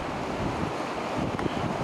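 Stormy sea waves break and pour over the top of a harbour breakwater in Porto, Portugal, a continuous heavy roar of surf mixed with wind buffeting the microphone.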